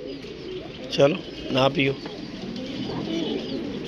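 Pigeons cooing nearby in a few soft throaty bursts over a steady background hum, with a voice talking briefly at the same time.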